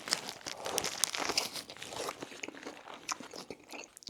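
Someone bites into a crunchy steak lettuce wrap and chews it, giving close, crisp crackles and crunches. The sounds are dense at first and thin out toward the end, with no talking over them.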